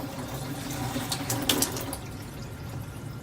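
Water runs steadily through a Kangen SD501 under-the-counter water ionizer during cleaning, a continuous tap-like flow that swells slightly midway, close and alone with no voices.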